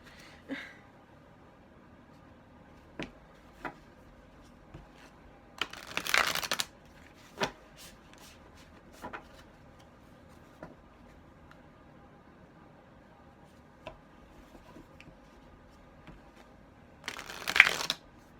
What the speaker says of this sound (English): Could we please shuffle well?